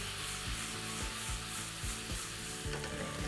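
Radish leaf sabzi sizzles steadily in a hot pan over high heat, a dense continuous frying hiss with regular stirring scrapes about every half second, close and alone.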